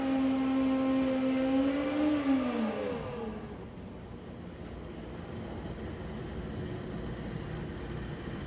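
Two Pro ET drag racing motorcycles launch hard at a drag strip, engines screaming up in rising pitch for about three seconds before fading off into the distance, leaving crowd and track ambience.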